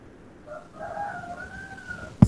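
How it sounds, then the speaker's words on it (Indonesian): A rooster crows once at moderate distance, a drawn-out call rising and holding before trailing off, followed by a short sharp knock close to the microphone. "Suara ayam siapa?"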